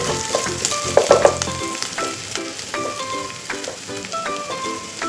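Onion browning with coriander powder and red chili powder crackles and sizzles in a pan, with a burst of stirring scrapes early on, then a steadier frying hiss with faint background tones.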